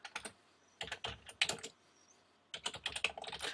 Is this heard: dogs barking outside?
no